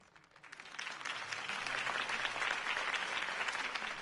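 A crowd in a Batman video game bursts into applause, swelling quickly from quiet to a sustained, dense clapping that holds steady to the end.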